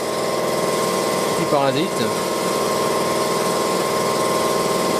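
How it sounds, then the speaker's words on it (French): A Toyota Corolla engine runs steadily at idle with the spark plugs being changed, giving a constant mechanical hum close by, while someone briefly speaks over it. "Le moteur tourne."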